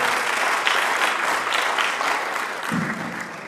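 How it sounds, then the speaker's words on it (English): A crowd at a business expo gives another round of dense, continuous clapping, steady and moderately loud, easing slightly at the close. "give him another round of applause"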